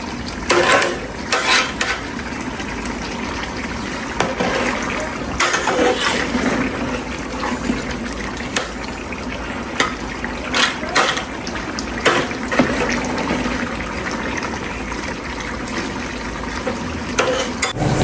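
Spices are stirred into a cooking dish in a pot, a steady wet scraping and sloshing with bubbling sizzle continuing throughout, close and fairly loud with no talk.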